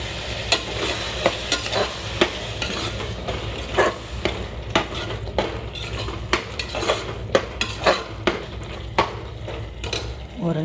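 A spoon stirs curd as it sizzles in a hot pan, with frequent metallic scrapes and clinks against the pan over a steady frying hiss and no talking.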